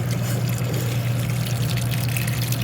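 Water runs steadily over a bottle gourd during a second rinse, a continuous close pouring and trickling wash with a low steady hum beneath it, no talking.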